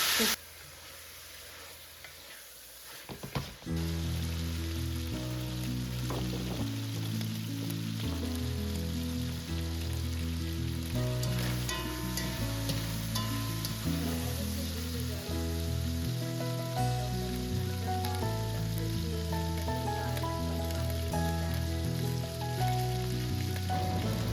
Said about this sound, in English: So I finished sauteing the beef.